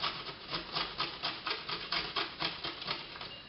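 A carrot being grated on a grater for fried rice, a close rhythmic rasping scrape repeating about four times a second in steady back-and-forth strokes.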